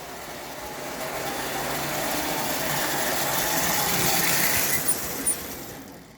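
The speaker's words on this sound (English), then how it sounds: "That locomotive sounds like it's grinding coffee." A model locomotive runs with a steady, rough grinding mechanical noise, continuous and fairly close for several seconds, with a couple of brief clicks near the end.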